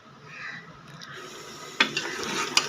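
Quiet hiss of onions and ostrich meat frying in hot oil for a karahi, with a couple of sharp utensil clinks near the end, close by and free of talk.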